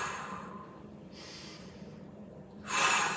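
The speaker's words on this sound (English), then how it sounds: "Let's go 3 big breaths here." Deep breaths taken during a mobility stretch, with long airy exhales and a louder, sharper breath rushing in near the end, close and with no talking.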